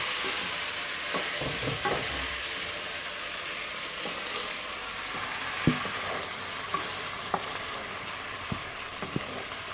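Tomatoes being stirred into a sizzling pan sauce for penne: a steady frying hiss under scattered scrapes and soft knocks of the utensil against the pan, with sharper clicks toward the end.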